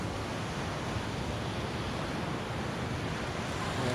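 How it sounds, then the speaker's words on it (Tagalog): Strong ocean surf pounds the shore at Casiguran, Aurora, a continuous loud broadband roar with wind buffeting the microphone, steady throughout with no voices. "Malakas ng alon pa rin oh."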